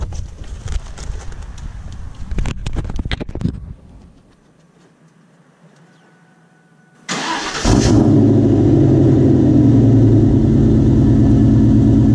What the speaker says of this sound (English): let's get a cold start on a 2001 Mustang with BBK headers and Bassani exhaust